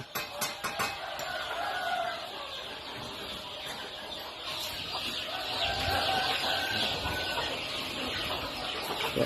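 Chickens on a Thai poultry farm with grower-bird pens, scattered clucks and rooster calls close by over a steady background hum, with intermittent sharp knocks and clatter.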